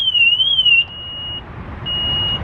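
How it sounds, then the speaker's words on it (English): A loud electronic car alarm on a Maserati GranTurismo wails in a wavering tone, then settles into a steady high beep that pauses briefly and resumes. "It instantly starts alarming, which is really stupid."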